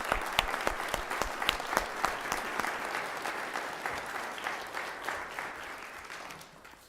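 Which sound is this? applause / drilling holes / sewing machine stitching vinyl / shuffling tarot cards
applause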